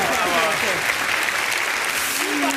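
Studio audience applauding on a German TV show after a performance by a band, dense sustained clapping from a crowd with a voice speaking over it.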